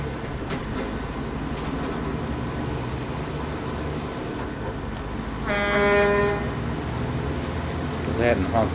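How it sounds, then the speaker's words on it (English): Truck with Australian stacks and its front end lifting honks its horn once, a loud, blaring tone lasting about a second amid engine rumble, with people talking around it. "I hadn't honked the horn till then, so I don't know what the horn was like"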